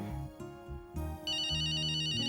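A phone rings with an incoming call, its electronic ringtone starting partway through as a repeating high tonal pattern and growing steady and fairly loud over background music and scene sound.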